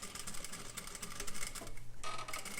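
A sewing machine stitches fabric at a dial setting of 3, with a fast, even mechanical chatter that briefly drops out for the backstitch before resuming just as rapidly.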